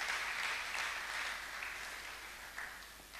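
A church congregation applauding, a dense sustained clapping from many hands filling the room, steady and fairly loud before slowly tapering off.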